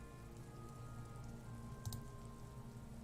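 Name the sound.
light drizzle rain outside, from video game Disco Elysium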